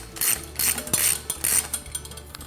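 A ratchet tool clicks in quick, repeated bursts while tightening a nylon-insert nylock nut on a bicycle brake. The metallic ratcheting is loud and close, comes in about four strokes, and no one talks.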